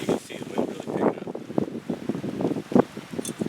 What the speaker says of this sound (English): the wind's really picking